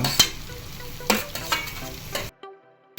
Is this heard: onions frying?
yes